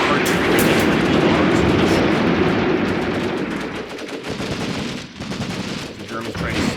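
Continuous loud artillery and gunfire from the Graviteam Tactics: Mius Front video game in a trench battle, a dense rumbling barrage with rapid crackling shots throughout and a voice over it.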